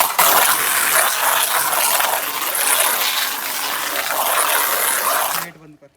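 High-pressure washer spraying water onto Baleno car floor mats, a loud, continuous hissing rush of water that holds steady and then cuts off abruptly near the end.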